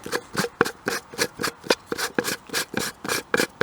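Unscrewing the bottom battery compartment of a rechargeable camping device gives a steady series of about a dozen short, close scraping twists in an even rhythm, with no talking.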